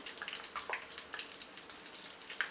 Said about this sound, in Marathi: फ्राय करून घेऊया चांगले आणि गोल्डन फ्राय करायचे, हलवून घेऊया आपण